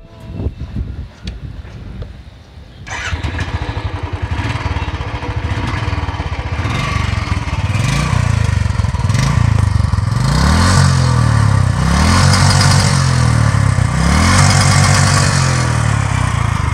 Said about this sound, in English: The engine is a 346cc twin-spark single-cylinder air-cooled one